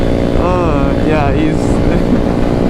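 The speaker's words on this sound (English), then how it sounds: "He's full tucking on the GROM right now" A Honda Grom motorcycle ridden at speed through twisty canyon roads in clear weather, its steady engine drone and rushing wind loud and constant throughout, with someone speaking briefly over it.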